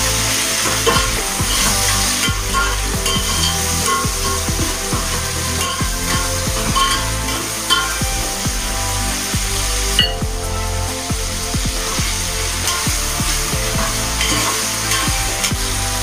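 Tomatoes frying with chopped vegetables in a pan for vegetable rice give a steady, loud sizzle throughout, with frequent scraping stirs from a utensil and no voices.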